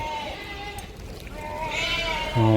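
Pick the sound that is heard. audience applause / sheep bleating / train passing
sheep bleating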